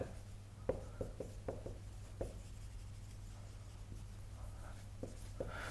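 Chalk or marker writing on a board during a French lecture on power series, with scattered soft taps and scratchy strokes, faint and intermittent in a quiet room.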